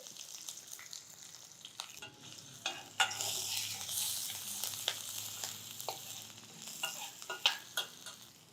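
Cumin, curry leaves, green chillies and ginger crackle in hot oil, a soft hiss that swells into a brighter spluttering burst as ingredients drop in, with scattered pops and spatters, close and fairly quiet.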